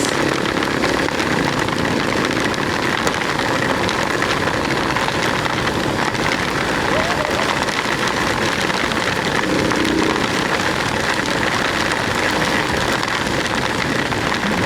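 Heavy rain beats down during a Yamaha YTX 125 motorcycle ride on the road to Olongapo City, Zambales, a loud constant wash of drops and wind mixed with the running engine, with no talk.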